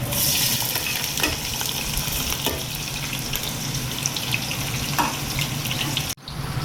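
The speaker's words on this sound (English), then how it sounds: "Fry the onions till they turn golden brown" Onions frying in hot oil with cumin seeds for a chicken wing dish: a constant dense sizzle, close and fairly loud, broken by a few light stirring clinks, with no speech.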